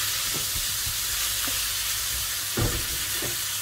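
Food sizzles steadily in a hot pan while being mixed, with a constant frying hiss and a few soft scraping knocks of stirring scattered throughout, the loudest near the end.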